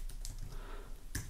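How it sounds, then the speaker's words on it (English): Several quick, soft keystrokes on a computer keyboard, clustered in short bursts with a sharper click near the end, faint and close with no talk. "and I'm going to type in"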